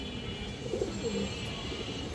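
A pair of pigeons held in the hand gives a short burst of soft, low cooing up close, a brief murmur against steady background hiss.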